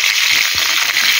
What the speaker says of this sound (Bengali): এখন বেগুন ভেজে নিচ্ছি